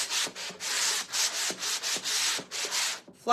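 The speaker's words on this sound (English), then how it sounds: "I'm actually going to take a sanding block and just make sure that this is flat" Rhythmic back-and-forth sanding on wood with a sanding block, steady raspy strokes close up, about a dozen in a row with brief pauses between.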